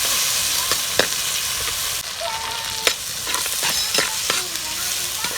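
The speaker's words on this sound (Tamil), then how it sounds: "தக்காளியை போட்டு கொஞ்சம் நல்லா வதக்கிக்கலாம்." Tomatoes tossed into a pan with softened onions for a chicken curry, sautéing with a steady broadband sizzle, several sharp clinks and scrapes of a spatula stirring, close and fairly loud throughout with no talk.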